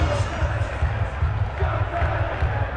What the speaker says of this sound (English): the biggest cheer for the head coach